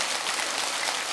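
Audience clapping at a Buddhist dharma talk in a temple hall, a dense, steady burst of applause heard up close for about a second, with no voices over it.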